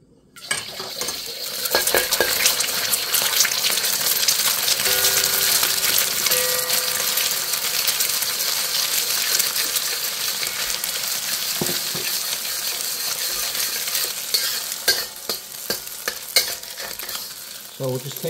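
An egg fries in hot oil in a wok while Pad Thai with chicken is cooked, giving a steady, close sizzle with scraping utensil stirs and clinks of a spatula against metal, no talking.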